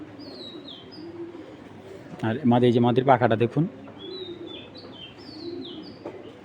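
Racing pigeons at a pigeon farm coo softly in low, rolling tones, with thin chirps above, while someone talks close by through the middle.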